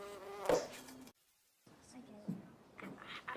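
A wasp buzzes near the microphone with a droning whine, breaking off briefly before returning, while people talk quietly around it.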